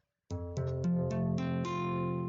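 After a brief silence, an F barre chord is strummed on guitar, then its strings are picked one after another and left ringing together, clear and close.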